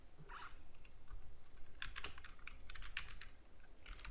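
Light, quick keystrokes tap on a computer keyboard in uneven bursts, close and moderately quiet, with no one speaking.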